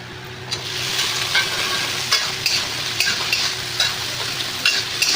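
Vegetables sizzle and fry in a hot pan for a dry sabzi while a spoon scrapes and stirs them, with a steady crackle broken by several sharp clinks and scrapes and no talking.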